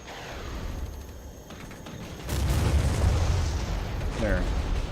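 Airstrike explosions in the Regiments war game, hitting dug-in Panzer Grenadiers during a Soviet armored attack: a sudden loud, deep blast about halfway through swells into a sustained rumbling roar over a busy battle background.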